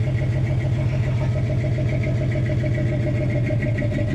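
Engine of a 1961 Chevy Apache truck running steadily while reversing, a continuous low mid-pitched hum with no noticeable revving, close by and alone.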